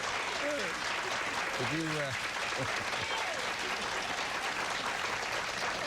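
A TV studio audience applauds loudly and steadily for a guest arriving at a 1990 television interview, with voices calling out over the clapping.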